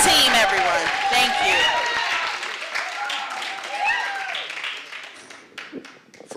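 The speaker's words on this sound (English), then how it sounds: "One more round of applause for the Malcolm X Shabazz football team, everyone." Applause and cheering from an audience at a county commissioners' special presentation, honoring the Malcolm X Shabazz football team; dense clapping with whoops and shouts, loud and sustained, fading toward the end.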